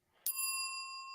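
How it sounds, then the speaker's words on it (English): A single bright bicycle bell ding rings out sharply and then lingers as a clear, slowly fading metallic tone, heard alone with no talk. "I would have to carry my bell with me when I'm talking."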